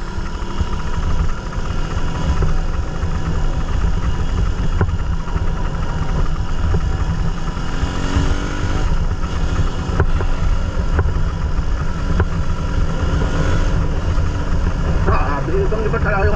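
A Suzuki Raider 150 motorcycle engine runs steadily at a close, loud idle, a constant rough mechanical drone with no talking.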